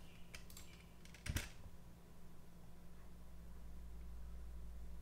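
A short burst of computer keyboard typing, a handful of quick clicks close by, followed by a low steady hum of room noise.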